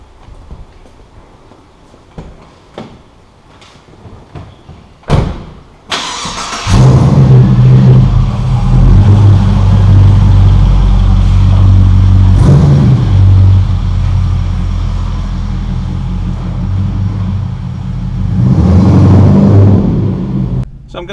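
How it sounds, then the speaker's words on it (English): A rebuilt Clubsport car pulls away and drives under light to medium throttle, its exhaust note loud and close with a deep steady rumble, a few mechanical clicks and thuds before the engine settles, and a brief rise in revs near the end. "I'm hoping from the exhaust note you'll hear how crisp and clean the gear changes are"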